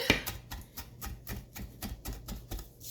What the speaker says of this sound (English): we're going to give this parsley here a good little chop